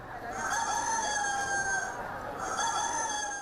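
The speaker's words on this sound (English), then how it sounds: "blasting rooster noises through the speaker to attract customers" A rooster crows twice through a shop loudspeaker used to attract customers, loud with a tinny, slightly distorted edge, the calls separated by a short pause.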